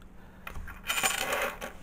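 Old pre-decimal British coins dropping and clinking together in a loose jingling spill, close and fairly loud, with no talking over it.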